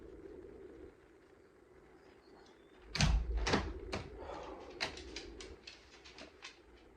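A house door is shut, giving a sharp thud followed by a cluster of rattling knocks and clatters, close and fairly loud against quiet room background.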